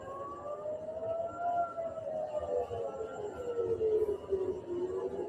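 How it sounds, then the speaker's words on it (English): An air raid siren wails from a distance in Tel Aviv during an attack, its long tone slowly rising and falling, steady and unbroken against faint background rumble. "we have sirens going off live in Tel Aviv,"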